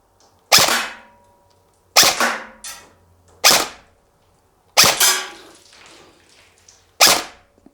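KWA Ronin TK.45 airsoft rifle, an AEG tested in the field, firing five sharp, loud single shots at irregular intervals, each with a brief decaying tail and quiet gaps between.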